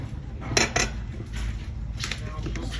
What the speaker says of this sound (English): And we'll stir. It's going to make our soup very delicious.